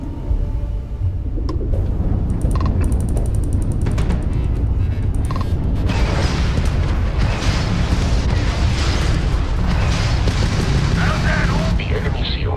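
Spaceship homing missiles launching and exploding in a Starfield space battle, with booming blasts and rumbling bursts piling up into a continuous loud roar while a voice talks over the combat.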